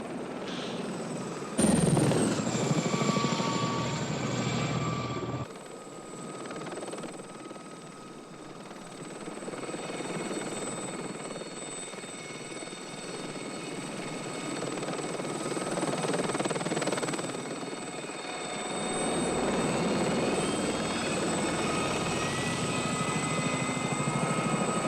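A helicopter flies steadily overhead, its loud rotor and engine drone continuous throughout with a sharp surge near the start, and no talking.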